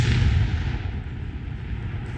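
A demolition charge goes off during a paratrooper exercise: a single heavy, booming blast that is loud from the start, then rolls into a low rumbling decay over about two seconds.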